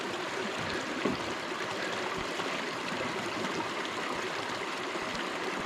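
A stream of water pours steadily into a reservoir near a campsite by Grout Pond, a close, continuous rushing flow with no talking.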